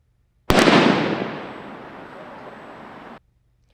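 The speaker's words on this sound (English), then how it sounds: "that is the sound of a smoke bomb directed towards a tent off X Street in Sacramento this morning" A smoke bomb set off at a tent on a Sacramento street: a sharp loud bang followed by a sustained hissing rush of smoke that fades over a few seconds, then cuts off.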